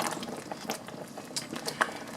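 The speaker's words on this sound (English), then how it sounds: "this will go ahead and just simmer for 5 minutes" Caramel pear pie filling of pears and sugar simmering in a pot on the stove, a quiet bubbling with scattered soft pops and faint clicks, steady and close with no voices.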